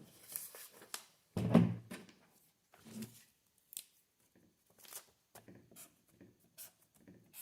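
A sheet of paper is grabbed and handled up close on a workbench, giving a soft crinkling swish followed by scattered light rustles and taps, faint with no talking.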